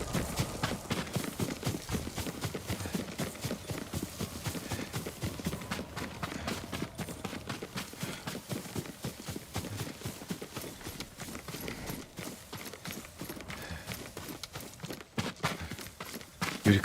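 A horse's hooves clip-clop steadily in the video game Ghost of Tsushima, a continuous rapid trotting rhythm over ground that runs throughout at moderate level with faint ambient sound.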